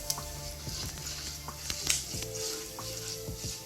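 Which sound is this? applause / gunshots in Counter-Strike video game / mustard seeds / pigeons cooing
mustard seeds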